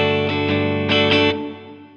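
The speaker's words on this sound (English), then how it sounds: "Next we have Fender marine layer reverb." Bright, effected electric guitar chords strummed in a few quick bursts through a Fender Marine Layer reverb pedal, washed in lush reverb and chorus, ringing out and slowly decaying to quiet.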